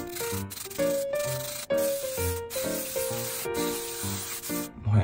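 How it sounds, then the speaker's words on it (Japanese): Hair spray hisses from a can to finish a styled hairstyle, sounding as short hissing bursts beneath louder tonal background music. "スプレーで仕上げたいと。"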